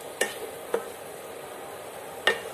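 Coconut and jaggery filling with ghee, a kozhukattai poornam, stirred in a pan: three brief, soft scraping strokes spaced apart, over a faint sizzle and quiet kitchen background.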